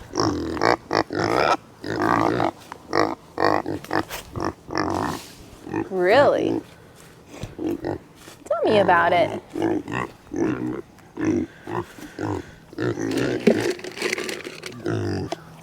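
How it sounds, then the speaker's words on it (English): Pigs grunting and oinking as they eat on a farm, with short snorts scattered through steady conversation from nearby people. "You eat like pigs. Literally."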